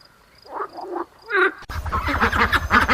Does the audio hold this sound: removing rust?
no